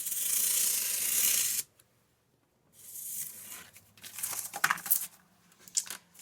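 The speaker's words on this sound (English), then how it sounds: "I'm just going to cut it really quickly with a knife." A knife slices through a piece of cardboard from an old box, a short burst of scraping and tearing, a brief pause, then a series of rougher cutting strokes close by, with no talking.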